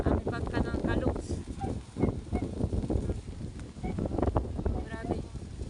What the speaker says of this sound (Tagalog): Ito po ay lakas pa ng hangin